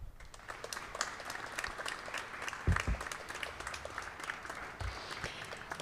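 An audience applauding at a Hellenic Red Cross event, a steady wash of hand claps filling the room at moderate loudness, swelling slightly midway and continuing without speech.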